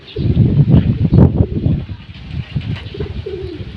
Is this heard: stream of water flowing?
no